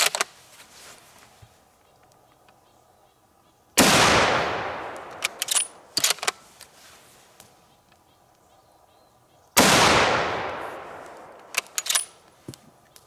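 A Madsen rifle fitted with a muzzle brake fires two loud, sharp shots several seconds apart outdoors. Each crack rings out in a long fading echo, and faint knocks and handling noises fall between them.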